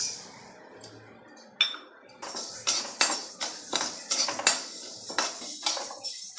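Utensils clink and scrape against a pan as moong dal is added and dry-roasted for a multigrain sweet laddu, with a steady run of close, sharp metallic taps and stirring scrapes at an irregular rhythm.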